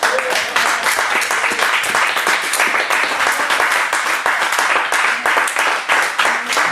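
A church congregation claps in loud, sustained applause of quick, dense clapping that continues evenly throughout, with little talk beneath.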